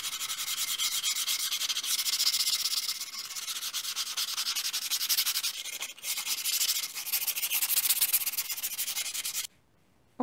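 Sandpaper rubbing steadily along the rough edges and corners of a wooden board, a dense close scratching that keeps up without pause, then stops abruptly.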